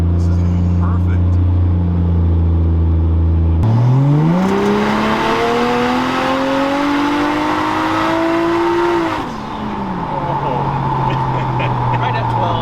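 A Datsun 620 pickup with a swapped turbocharged 1JZ engine pulls hard. A steady hum gives way to a rising engine note that climbs for several seconds, then drops back, heard from inside the cab with people talking.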